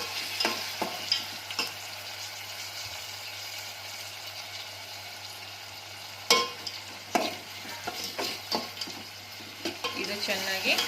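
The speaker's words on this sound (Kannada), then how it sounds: "ಒಂದು ಚಿಕ್ಕದ 3 ಟೊಮೊಟೊ ತಗೊಂಡು ಹೆಚ್ಕೊಂಡಿದ್ದೀನಿ, ಚಿಕ್ಕದಾಗಿ ಹೆಚ್ಕೊಳ್ಳಿ, ಅದನ್ನ ಹಾಕೋತಾ ಇದ್ದೀನಿ" Three small chopped tomatoes fry in a pan for tomato chitranna, with a steady sizzle beneath repeated sharp scrapes and clatters of a spoon stirring against the pan.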